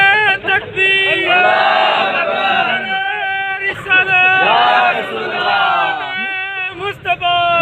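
A large crowd at a religious gathering chants loudly in unison in response to a takbir slogan, two long swelling waves of many voices, close and dense, with brief gaps between.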